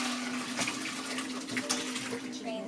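Cooked potatoes for gnocchi being drained, water pouring and splashing in a steady, continuous rush close by, with a faint hum underneath and no one speaking.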